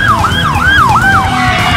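An emergency vehicle siren wails close by and loud, its pitch sweeping up and down in quick repeated cycles before settling into a steady tone, with road noise beneath and no talking.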